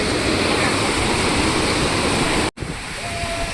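A small waterfall at Aruvikkarai in Kanyakumari roars as a steady, dense rush of falling water, loud and close, briefly cut by a gap before continuing slightly quieter.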